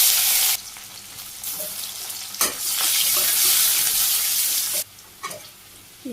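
Chopped onion, cumin seeds and bay leaf frying in hot oil in a wok make a loud close sizzle that swells and drops in bursts, with stirring scrapes between surges.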